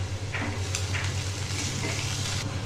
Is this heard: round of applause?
no